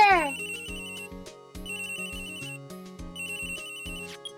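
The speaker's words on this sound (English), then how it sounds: "I'm surprised that cell phone is actually louder for everybody else than it seems to be for me" A cell phone ringtone from the Phoenix Wright: Ace Attorney game plays as a bright, looping melodic jingle of repeated chiming notes, loud and continuous throughout, with a quick rising swoosh at the start.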